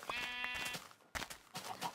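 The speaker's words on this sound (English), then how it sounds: "Well, there's sheep, so." A Minecraft sheep bleats in a quick, clear wavering call at the start, followed by short soft game noises.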